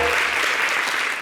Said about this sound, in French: Je voudrais des applaudissements pour les deux.